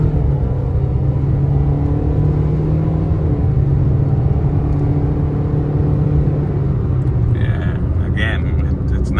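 A 2012 Scion iQ driving in regular drive mode gives a loud, steady engine drone and low road rumble from inside the cabin, with a few light rattles near the end.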